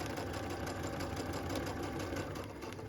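A sewing machine stitches along fabric and a zipper, a quiet, continuous rapid whirring chatter with a faint mechanical knock, running steadily without pauses.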